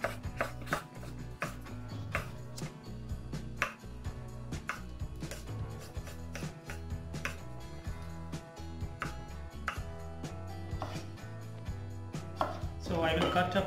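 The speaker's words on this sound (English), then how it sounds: "So I will cut a potato like this, small pieces" A knife chops potato into small pieces on a board, a long run of quick, close, uneven cuts with scraping in between, steady and moderately loud with no talking.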